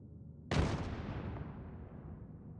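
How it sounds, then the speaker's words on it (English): One sudden explosion booms in a video game, a sharp blast that rolls off into a long, fading rumble, heard alone at moderate volume. "That was like a delayed reaction explosion."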